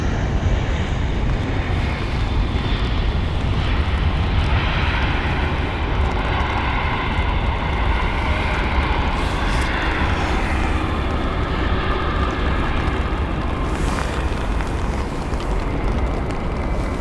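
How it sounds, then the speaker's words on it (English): A Eurowings A319 airliner touches down at London Heathrow, its engines sending a loud continuous rumbling roar across the field, steady and distant-sounding throughout with no voices. "Got the Eurowings A319 with a very nice touchdown."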